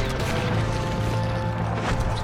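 A gunshot in the Wild West video game Red Dead Redemption 2, a single dense burst of noise over a steady low rumble of game ambience, with no talking.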